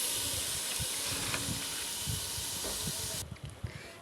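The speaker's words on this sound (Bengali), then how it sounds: "আমরা চালটা ভালো করে ভেজে নেব" Rice is fried in a pot for beef khichuri, giving a steady hiss with soft scraping that fades out abruptly near the end, close by and with no talk.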